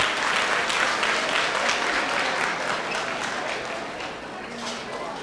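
Audience at a high school distinguished academic awards dinner applauding, a sustained wash of many hands clapping in a large room that holds steady and then slowly tapers off.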